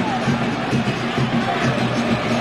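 Internacional football fans in a stadium booing during a 2013 Gauchão quarter-final derby against Grêmio: a steady, dense roar of crowd noise that holds loud throughout with no breaks.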